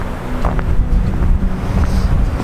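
Cold, icy wind gusting hard across the microphone outdoors, a constant loud roaring rumble with no voices.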